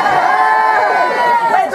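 Guests at a 40th birthday party, a close, lively hubbub of many overlapping voices and laughter filling the room.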